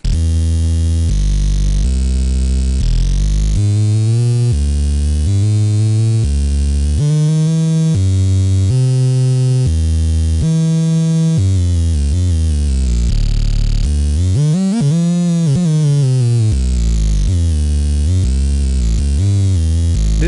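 Heavy dubstep synth bass from a software synth, its second oscillator's pitch swept by a macro control, plays loud and continuous with throbbing, distorted tones that rise and fall in pitch, including a steep swoop near the end, with no voices.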